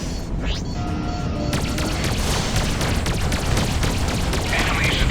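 A missile strikes and explodes in the space-combat video game Freelancer, producing a dense rumbling blast followed by continuous crashing impacts and booms, loud and sustained over a steady engine drone.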